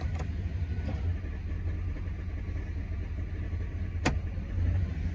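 A Chevrolet truck engine idles steadily with a low, close rumble while the transmission is moved through each gear range, marked by a couple of brief clicks and a faint thump.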